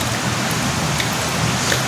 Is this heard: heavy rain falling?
yes